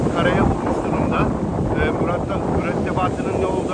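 Strong wind roars and buffets across the microphone on the shore at Kuşadası Kadıkalesi beside a grounded sailboat, a loud continuous rush of gusts and surf, with a person speaking under it.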